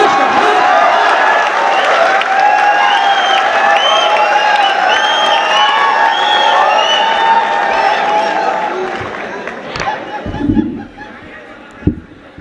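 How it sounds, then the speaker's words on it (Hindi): A poetry gathering audience welcoming a poet with loud clapping and cheers, a steady swell of many hands that thins out after several seconds, followed by scattered sounds and a single sharp knock. "मैं दरख्वास्त करूंगा आप सभी से कि जोरदार तालियों के साथ स्वागत करें"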